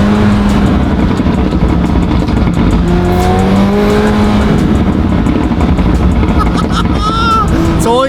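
A McLaren 720 engine revs and climbs through rising pitch as it accelerates hard, loud and close, with gear changes and road noise throughout.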